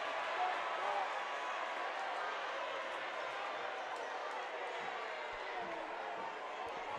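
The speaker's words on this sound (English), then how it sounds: "You hear the crowd" Basketball arena crowd jeering a Wildcats player after a taunting technical foul, a steady dense roar of voices filling the gym for the whole stretch, loud and continuous with faint court noise beneath.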